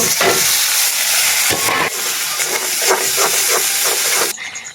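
Cumin seeds and ground spice paste sizzle loudly in hot oil for chickpeas, a steady bright hiss with crackles and a few stirring scrapes, cutting off sharply near the end.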